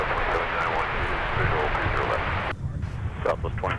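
A passenger airliner departing Minneapolis airport in winter gives a broad, roaring engine rumble that holds steady, then thins partway through as it recedes, with talk over it.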